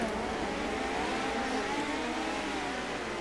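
Race cars roaring around the track at Millbridge, a steady loud engine drone with rising revving tones as the pack runs at speed, continuous and without voices.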